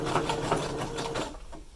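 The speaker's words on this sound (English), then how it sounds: "I'm just going to start by anchoring it with my zigzag stitch" A sewing machine runs a zigzag stitch to attach stretched elastic onto a fabric pocket face mask, giving a fast, even mechanical whir with a regular stitching pulse, fairly quiet and with no voices.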